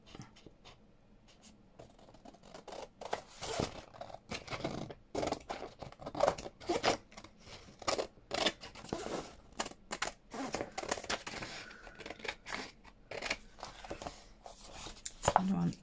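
Scissors trimming down the sides of a handmade journal insert built from packaging, a run of quick crisp snips and paper rustles up close, with a dog panting and whimpering nearby.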